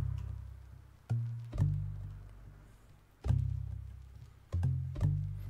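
A pitched djembe preset from the Expand plugin in FL Studio plays a simple bouncing melody, a few sharp hand-drum hits with ringing tonal tails, spaced irregularly and quiet overall.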